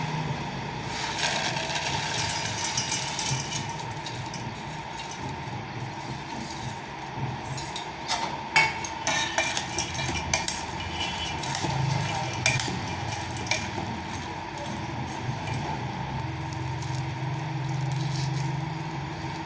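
Fried gram-flour boondi pearls are stirred into cooled sugar syrup for laddu, giving soft wet scraping and clinks of a spoon against the vessel, with a few sharper knocks midway, close and without talk.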